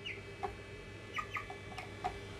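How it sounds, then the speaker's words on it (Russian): A large white mini-meat breed rooster, about four weeks old, clucks during weighing: four or five short, soft clucks spaced irregularly over a quiet background, fairly close. "Большой петушок. Ты сколько весишь?"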